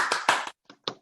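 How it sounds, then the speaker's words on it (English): A person claps their hands in a short burst of sharp, close claps, a rapid cluster of several followed by two separate single claps after a brief pause. "if you actually clap your hands"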